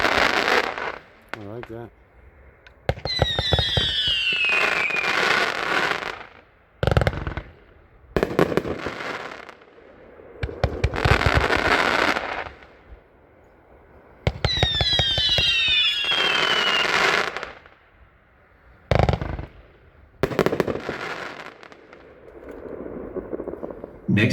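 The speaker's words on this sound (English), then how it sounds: "This is Rock and Roll, 40 shots." A 40-shot Rock and Roll firework cake at a fireworks demo fires two long rapid volleys of loud bursts with crackling and whistling tails, a short pause between them, while people talk briefly in between.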